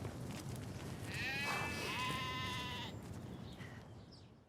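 On a snowy farm, a single ewe lets out a loud, wavering bleat that lasts a couple of seconds, with a low steady background murmur under it and fainter bleats from the flock after it.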